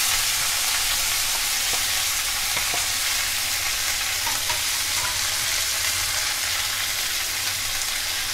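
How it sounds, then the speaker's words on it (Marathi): Leafy greens for a sattvic Rishi Panchami mixed-vegetable dish fry in refined oil in a pan, a steady close sizzling hiss with soft stirring scrapes running throughout, no talking. "मी आधी पाल्याची भाजी टाकतोय."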